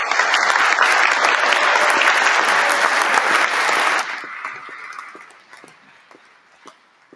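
A graduation ceremony crowd claps loudly and densely for about four seconds, then the applause thins quickly to a few scattered claps before fading out.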